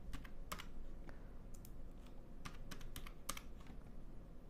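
Quick keystrokes on a computer keyboard entering a PIN to secure a PC, about a dozen sharp clicks in short irregular bursts, close and quiet with no voice.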